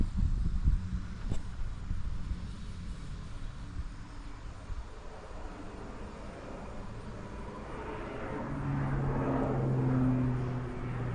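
A crop-spraying airplane with a big aviation engine passes over a field, a steady distant drone that swells louder toward the end, with no talk.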